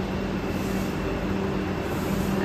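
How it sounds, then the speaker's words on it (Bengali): Steady, loud rumble and hiss inside coach C14 of the Vande Bharat Express 22302 running from Nagpur to Howrah, continuous and unchanging throughout with no voices. "আজকের train, NGP two Howrah Vande Bharat express 22302"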